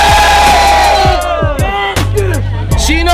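A street battle rap crowd in Batangas shouts and cheers in loud bursts, with whoops and yells rising and falling over a steady low hum, voices overlapping close by.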